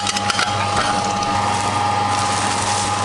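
An Angel juice extractor runs steadily while squeezing juice and pushing out dry pulp, a continuous close mechanical grinding whir with a faint ratcheting texture and a steady tonal hum.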